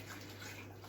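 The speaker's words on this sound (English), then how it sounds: "I like to add just a little bit of warm water to just up the temperature a bit" Warm water pours into a ginger beer mix as a continuous, broad rushing splash, close and even in level throughout the short moment, alone with no talking.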